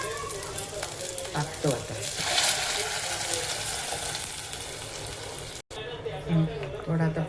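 Finely ground masala paste sizzles and fries loudly in a pan while a spicy-sour Konkan fish curry is cooked, a steady hiss with stirring. A person speaks briefly over it.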